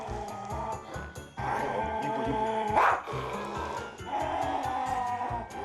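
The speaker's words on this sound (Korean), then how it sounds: "또다시 으르렁대기 시작한 깡순이" A poodle growls and snarls in short, repeated bursts indoors, fairly close, with low rumbling vocal tones over a faint background.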